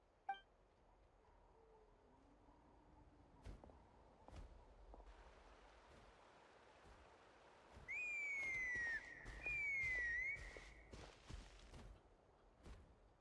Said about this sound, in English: Still whistling?